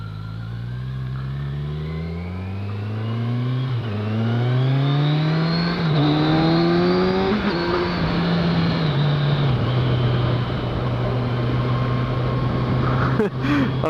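A 2015 Kawasaki Z1000SX with its 1000cc engine revs hard while riding, pitch sweeping up through repeated gear climbs then settling into a steady cruise, loud and close with wind rush.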